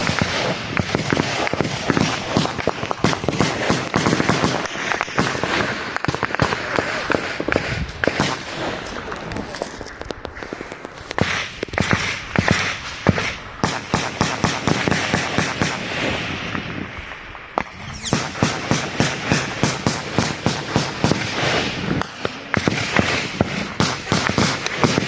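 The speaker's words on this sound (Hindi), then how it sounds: "लगातार सीधे आमने सामने की गोलियां चला रहे हैं।" Sustained gunfire from M16 and AK-47 assault rifles during an armed clash with insurgents in Manipur, dense rapid bursts of shots crackling almost continuously, loud and close, with brief lulls between volleys.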